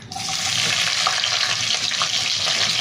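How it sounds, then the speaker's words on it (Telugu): Onions hit a hot pan and fry with a loud, continuous sizzle that starts abruptly and holds steady, close up with no voices. "ఇవన్నీ మనకి లైట్గా ఫ్రై అవ్వాలి ఓకే ఇప్పుడు ఇందులోనే ఆనియన్స్ వేసుకుందాం"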